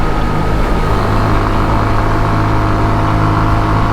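A touring motorcycle rides winding roads in southeastern Poland, a loud, steady engine drone with rushing wind noise, close and continuous, no speech.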